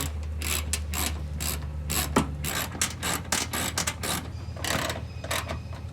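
A ratchet with a 7mm socket works on a glow plug of a Duramax diesel engine, rapid clicking bursts starting and stopping, close and moderately loud over a low steady hum.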